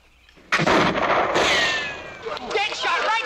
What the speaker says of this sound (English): Dead shot, right smack dab on the target.